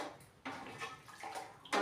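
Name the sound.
lemon-boiled water poured into a washbasin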